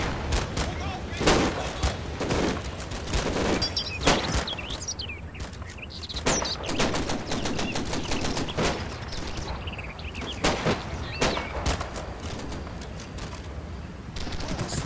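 Heavy .50 cal machine gun fire with high explosive rounds in the Combat Mission: Battle for Normandy wargame, rapid loud bursts and sharp cracks repeating throughout amid battlefield noise, with faint bird chirps underneath.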